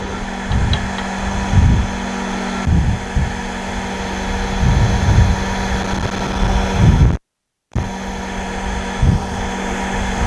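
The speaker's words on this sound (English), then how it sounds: "I'm going to go sharpen my tools." A tool-sharpening machine runs with a steady motorized hum and whirr. Grinding contacts come in repeated pulses, and a short silent gap falls near the end, with no talking.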